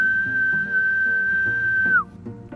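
A person holds a regular mouth whistle as one steady, clear, loud pitch for about two seconds, ending in a slight downward slide, with low background noise underneath.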